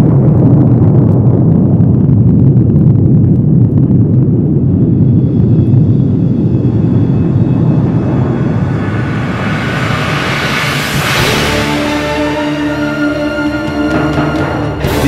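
An atomic bomb explosion in wartime Japan: a loud, sustained low roar and rumble that swells into a rising rushing hiss near the end, with no voices.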